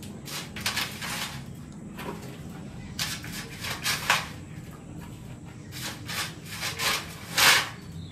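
Potting soil is pressed and packed tightly around a freshly planted aloe vera, making repeated close rough rubbing and scraping strokes in uneven bursts, some louder than others, with no talk.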